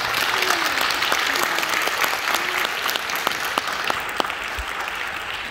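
Audience applause fills a school NJROTC award ceremony, steady clapping with distinct individual claps and murmured voices underneath, holding for several seconds before easing slightly.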